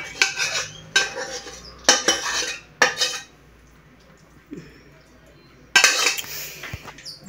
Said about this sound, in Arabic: انا غادي نصبها معكم الكبده ديال الدجاج